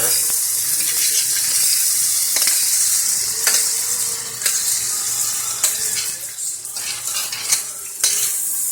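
Roasted red peppers from a jar are stirred into a sizzling pan of chicken and sausage, with a steady fry hiss and repeated scraping, clinking spoon strokes close by.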